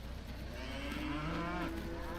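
Cattle just unloaded from trucks give a low, drawn-out moo at a moderate distance over steady outdoor background noise.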